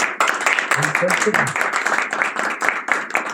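An audience applauds a panel at a public-private health medicines forum, a dense burst of clapping that fills the few seconds, with some voices mixed in.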